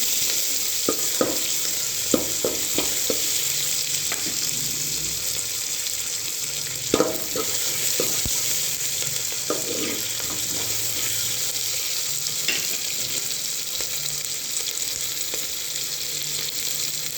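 Onions and tomatoes sauté in a pan for a moringa leaf and yellow pumpkin kuzhambu, a steady sizzle broken by scattered clicks and scrapes of stirring.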